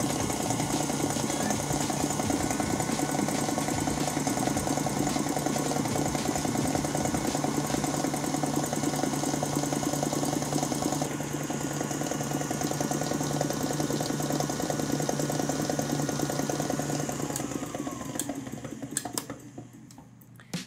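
Electric mixer whipping flourless, gluten- and dairy-free chocolate muffin batter to a glossy stage, a steady loud motor whir running continuously and fading near the end as it winds down.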